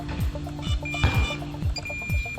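A DJI Neo drone's locator beep, a repeating electronic pattern of several quick chirps and tones sounding close and steady.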